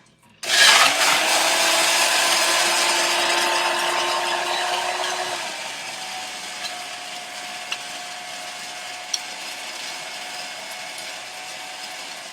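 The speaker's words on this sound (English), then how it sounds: "10 to 15 seconds on the blender." Countertop blender whirring for a Halloween cocktail at home, a loud steady motor drone lasting about ten seconds and easing slightly before trailing off into quiet room noise, with no talking.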